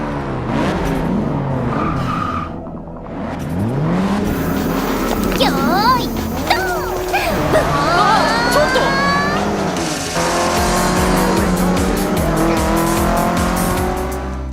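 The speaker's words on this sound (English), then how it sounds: "the great thing about this car is that it can also be a street racer." A Subaru street racer squeals its tires repeatedly through skidding turns, engine revving underneath, loud and continuous, with game music and sound effects mixed in and a voice talking over it.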